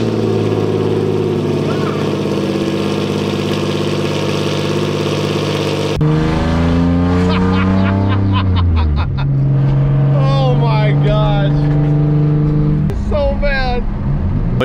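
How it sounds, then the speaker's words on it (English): A loud Nissan 350Z with a rear-mounted turbo, built to 600 horsepower, drones steadily up close. Voices talk over the engine's constant rumble during the second half. "The 350Z at this point was incredibly loud."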